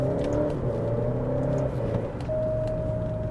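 An Alfa Romeo Giulia engine pulls hard from inside the car, rising in pitch, then dips briefly at a quick gear shift and climbs again, steady and close with no talking.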